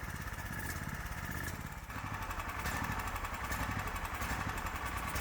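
A Predator 420 engine swapped into a Hisun UTV runs rough and uneven on stale carburetor fuel, a steady close mechanical chug with a fluttering beat and a slight surge partway through.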